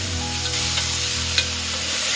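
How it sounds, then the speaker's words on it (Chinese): Lamb with ginger slices stir-frying in a hot, oiled wok: a steady close sizzle with a faint scrape of the spatula partway through, no voices. "加入羊肉开始翻炒"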